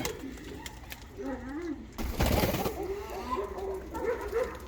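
Several Ottoman Hünkari pigeons coo in low, rolling phrases, overlapping one another, with a brief burst of rustling or wing noise partway through.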